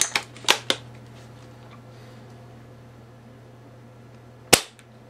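A UTG GEN5 airsoft sniper rifle being tested through a chronograph, heard as a few sharp snapping shots close together at the start and one more crisp shot after a quiet pause, over faint background hum.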